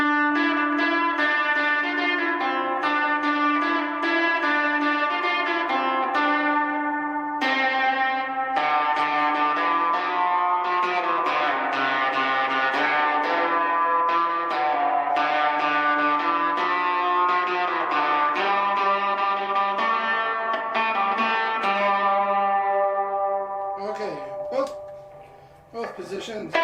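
A Fender Vintera II '70s Competition Mustang electric guitar played through fuzz and spring reverb, with sustained distorted chords and single-note lines ringing continuously, loud and close, before a brief drop near the end.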